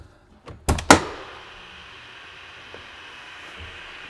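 A few heavy thunks and a latch clank as the rear doors of a 2019 Ford F450 4x4 heavy-duty ambulance open in quick succession, followed by a low hiss of the liquid-ride suspension dumping, fading into quiet hum.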